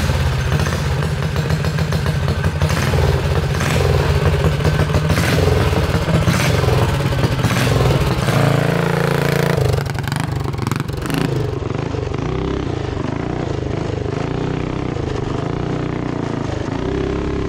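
Small bike powered by a Tillotson 212 engine with more cam and a better carburetor, revving hard and running loud and close, the engine note rising and falling before settling into a steadier drone, no talking.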